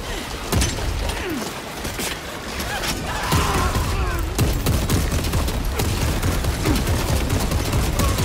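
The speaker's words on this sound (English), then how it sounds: "Preparing an airstrike. Can you hold the enemy in place until it hits?" Explosions and heavy gunfire tear through a battle in the Warhammer 40000 Space Marine 2 video game as an airstrike lands on enemies, with loud, sustained blasts and crashes filling the whole stretch and little pause between impacts.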